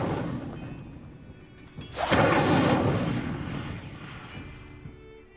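The Incendio fire spell is cast in Hogwarts Legacy: a loud, roaring burst of flame whooshes up over a rumbling game background and then fades, with no talking.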